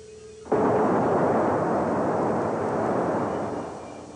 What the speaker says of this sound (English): When these two particles collide, if the impact is just right, they annihilate each other in a great explosion.